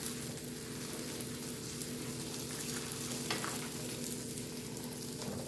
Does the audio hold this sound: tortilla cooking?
yes